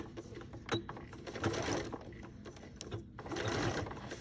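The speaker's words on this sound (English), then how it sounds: "So I'm going to start stitching here, leaving the first couple, few inches unsewn" A sewing machine stitches a bias tape hem on pants in short, irregular bursts of clattering mechanical whir, with small clicks and pauses between runs, close and fairly quiet.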